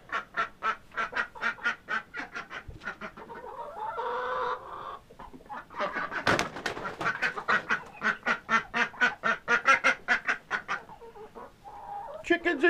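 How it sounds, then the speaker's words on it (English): Chickens and ducks cluck and quack in a rapid, steady pulsing chorus, fairly close, with a brief busier flurry midway. "Chickens and ducks."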